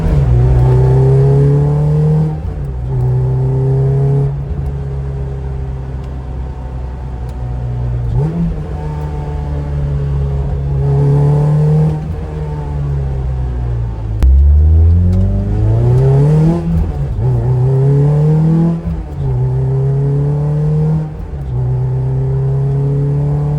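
A Toyota MR2 Spyder drives with the top down, its engine droning and rising in pitch through repeated gear changes, close and loud with wind noise over a steady rumble.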